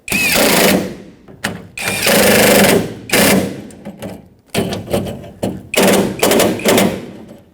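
Mounting nuts on a 2011-2016 Ford F tailgate handle are run down with a power tool: loud, close bursts of rapid impact rattling, repeated in several short strikes separated by brief pauses, with no talking.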